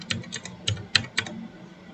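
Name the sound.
typing on a computer keyboard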